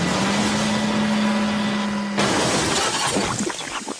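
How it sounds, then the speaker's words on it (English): In a Thomas and Friends scene, Flatbed crashes into a stack of roofing slate in the sidings: a steady engine drone cuts to a loud, close crash of shattering slate that clatters and tumbles away. "Flatbed biffed into the sidings to a stack of roofing slate and smashed it into tons."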